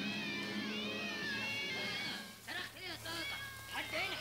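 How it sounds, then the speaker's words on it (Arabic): Several cats meow and yowl in a film scene, with drawn-out cries followed by a burst of shorter, overlapping meows near the end, while people talk around them. "ايه اللي جاب القطط؟"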